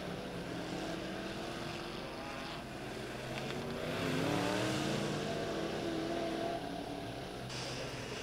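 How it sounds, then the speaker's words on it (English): Midwest Modified race cars at Lebanon Midway Speedway, a continuous roar of several engines racing together around the track, swelling louder as they pass in the middle, heard at a distance with no talk. "As Trent Wynn comes out of turn number four, checkered flag in the air for the 15 of Trent Wynn"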